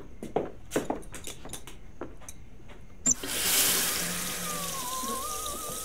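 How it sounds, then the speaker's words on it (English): Water from a kitchen tap with musical plumbing gushes on suddenly after scattered clicks and knocks, a loud broadband rush that holds steady alongside a faint warbling whistle from the pipes. "Turn the water on."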